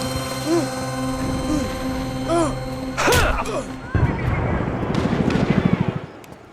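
A telephone rings in the video game Max Payne 3: repeated tonal rings in short bursts, then a clash of gunfire and noisy game action that buries them.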